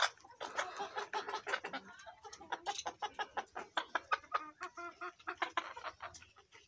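Egyptian Fayoumi laying hens cluck continuously in a flock, a dense run of short, rhythmic clucks and squawks from several birds at close range, moderately quiet overall.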